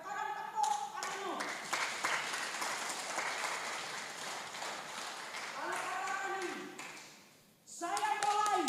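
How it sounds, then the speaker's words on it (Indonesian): A congregation at a Christian sermon claps hands together in a sustained, steady patter that lasts several seconds, mixed with voices and musical tones, then briefly dips before the clapping swells again. "Sekarang tepuk tanganmu."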